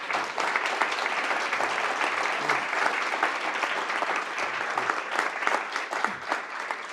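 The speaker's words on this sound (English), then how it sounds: "Let's give them a round of applause." Sustained applause from a conference audience, a steady dense wash of clapping that holds fairly loud and even for the full stretch with no voices over it.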